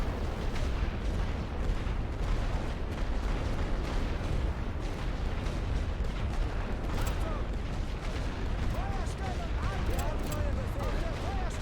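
Light artillery fire in the World War I trench strategy game The Great War: Western Front rumbles on as a dense, continuous barrage of muffled booms and crackling shots, loud and steady throughout.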